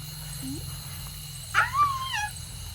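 Dog howling outdoors, a drawn-out wavering whine rising and falling in two or three slurred tones, moderately near, over a steady low background hum.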